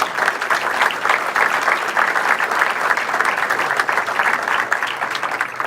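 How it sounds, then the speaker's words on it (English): An audience gives a sustained, steady round of applause for the co-chairs, Representative Vella Wilkinson and Senator Seveny, at a Rhode Island Democratic gathering, dense clapping filling the room with no pauses. "Let's give them a round of applause."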